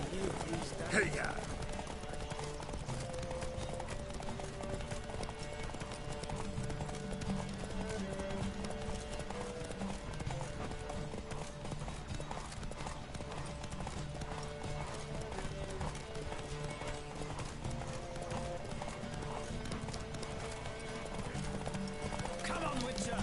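Horses gallop in a race in The Witcher 3, a steady rapid clip-clop of hooves with occasional neighing under continuous music and game sounds; riders shout and talk over it.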